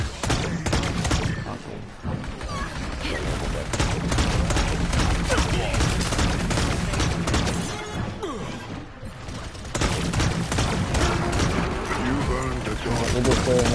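Rapid, continuous gunfire from the online shooter Paladins, dense and loud, with mechanical clatter and impacts running almost unbroken across the whole stretch.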